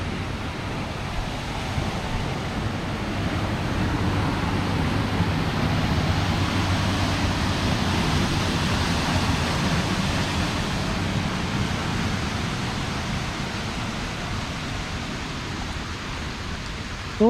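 Heavy rain from a severe thunderstorm on an evening in Southeast Michigan pours down in a steady, loud, dense hiss that holds for the whole stretch, with no voices over it.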